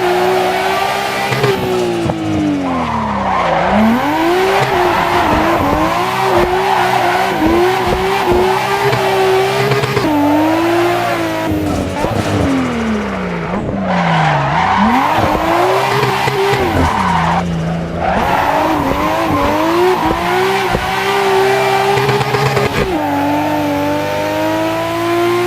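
Loud, continuous tire squeal from a Mazda RX-7 drifting in Assetto Corsa with a drift mod, the engine revving and wailing in long rising and falling sweeps as the car slides through corners, with no voices.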